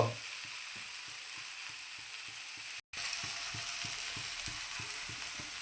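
Onions fry to golden in a pan for a taro and egg curry, a steady close sizzle over a regular rhythmic clicking, broken by a brief silent gap midway.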